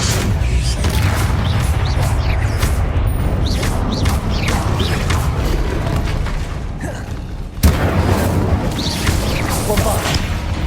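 Confringo and Bombarda spell explosions in Hogwarts Legacy boom and crash in a dense, continuous barrage, loud and close, with a voice speaking over the blasts.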